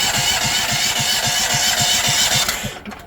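A Duramax XP1300HX gasoline generator engine cranks close up with a rapid, regular chugging pulse for a few seconds, then winds down and falls quiet without running.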